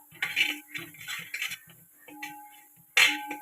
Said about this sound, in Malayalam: നന്നായിട്ട് ഇളക്കി യോജിപ്പിച്ച് കൊടുക്കാം